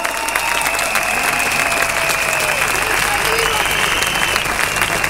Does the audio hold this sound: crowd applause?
yes